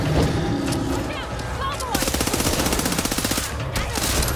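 Rapid automatic gunfire from a rifle fitted with an ACOG scope in the video game Back 4 Blood, loud and close in fast rhythmic bursts, with game effects and a voice underneath.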